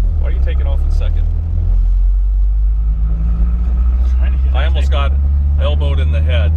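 A 1972 BMW 2002tii pulling away in second gear, a loud steady low engine rumble heard from inside the car, with voices talking over it throughout.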